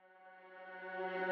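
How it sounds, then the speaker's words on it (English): A soft, airy synth tone swells steadily louder over about a second, smooth and reverberant, heard alone. "And I made one riser and one synth step."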